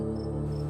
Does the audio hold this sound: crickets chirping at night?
yes